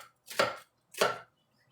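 A knife makes two crisp, evenly spaced chops through a red onion on a cutting board, close and clear, with silence between the strikes.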